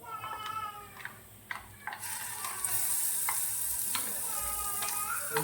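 Roasted masala with cumin and a little oil stirred and frying in a pan, a steady sizzle broken by repeated scraping taps of the spoon, with the hiss swelling louder midway through.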